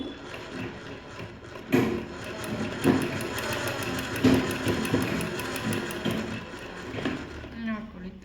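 A domestic sewing machine stitches a cloth blouse in quick rapid bursts, a busy mechanical whirring and clatter heard close up, with someone talking over it throughout.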